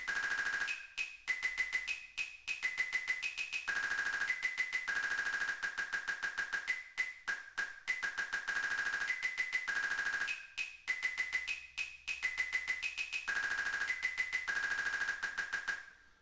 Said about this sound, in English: you add this percussion, this snare, this kick drum